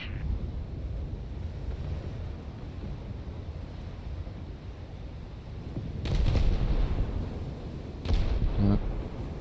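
Naval guns firing in War Thunder, heard as two heavy booms over a constant low rumble of ship and wind noise.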